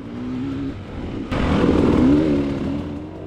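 A motorcycle engine revs hard under aggressive throttle while climbing uphill on a ride, a loud, close, continuous drone that surges in pitch partway through and holds steady.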